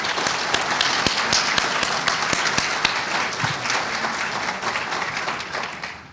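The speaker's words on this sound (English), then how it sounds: "let's give her a nice round of applause" An audience at a history awards ceremony breaks into sustained applause, a dense wash of hand claps with a few sharp, distinct claps standing out. The applause holds steady for several seconds, then begins to taper off at the end.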